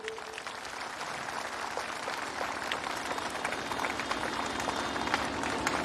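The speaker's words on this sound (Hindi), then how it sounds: "जोरदार ताली बजाइए।" An audience at a rally applauds continuously in a dense, steady wash of clapping that holds for several seconds without pause.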